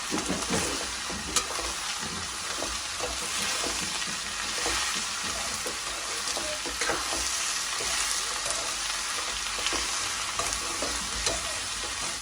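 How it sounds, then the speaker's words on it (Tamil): Mushrooms and onions fry in a pan, giving a continuous close sizzle broken by repeated spatula stirring scrapes and small pops throughout. "இப்போ காளான் வந்து வதங்க நல்லா வதங்கட்டும். இங்கால வந்து பொரிவாடுது வெங்காயம்"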